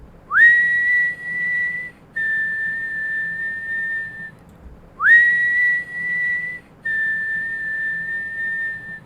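A narrator whistles a two-part tune twice, each phrase a rising slide into a held tone followed by a second steady note. The whistle imitates someone whistling as they walk out of a cornfield, clear and close with no talk.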